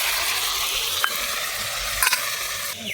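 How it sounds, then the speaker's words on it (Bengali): Grated onion, tomato and garlic sizzle and fry in a pan, a steady dense hiss filling the whole clip with a few brief scraping clinks from stirring. "গ্রেট করে রাখা পেঁয়াজ টমেটো আর রসুন যেগুলো ভাজলাম ওই ভেজে রাখা গ্রেট করাগুলো ওখানে দিয়ে দেবো"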